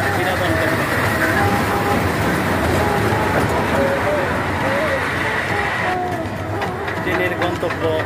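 A small children's ride train rumbles along its track at the Mahera Zamindar Bari picnic grounds, a continuous mechanical drone with faint periodic tones and background crowd noise; people talk over it.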